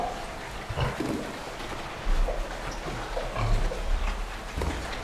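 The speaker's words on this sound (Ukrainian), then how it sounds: "Свиноматки, ну так, їдять" Sows in a farm pen eat their feed, a continuous close mix of chomping, rustling and occasional grunts over a busy barn background.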